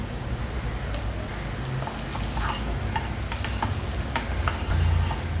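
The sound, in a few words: paneer fried rice being stirred in the pan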